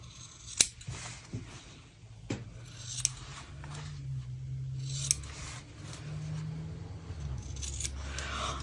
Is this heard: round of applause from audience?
no